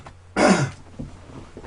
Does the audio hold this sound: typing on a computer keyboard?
no